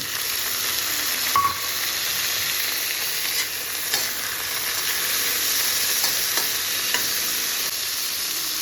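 Steady, close sizzle of onions frying in hot oil, a continuous hiss with occasional soft pops and stirring scrapes.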